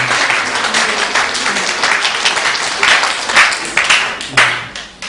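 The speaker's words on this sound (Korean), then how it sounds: "박수로 동의해 주시면" A church congregation at a Sunday worship service claps together in agreement, a close, energetic round of applause with a few louder bursts near the end, lasting about five seconds.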